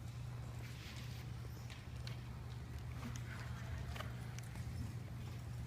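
A horse walks at a steady pace under a rider, soft rhythmic hoof clip-clops in an arena beneath a low constant hum, with a trainer's voice talking now and then.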